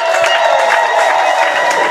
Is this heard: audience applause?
yes